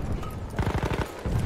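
A burst of rapid automatic fire from the SMG08 submachine gun in Battlefield 1, loud and close, sounding for about half a second in the middle of the clip.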